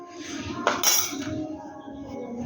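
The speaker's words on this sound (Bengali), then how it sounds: "এবার এই উপকরণগুলো আমি সম্পূর্ণ ভালো মতন মিক্স করে নেব।" Egg toast ingredients, including chili powder and black pepper, being mixed with a utensil: close metallic clinks and scraping against a dish, with a brighter clatter partway through and a final knock.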